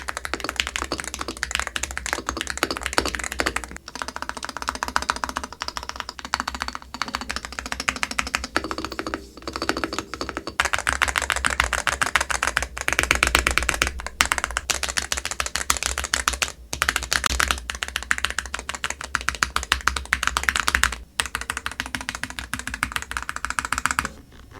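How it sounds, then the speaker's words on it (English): A stock rapid trigger keyboard is typed on continuously in close, rapid bursts of crisp key clacks, with brief pauses between runs of keystrokes and no voices. "Now let's see how the keyboard sounds stock."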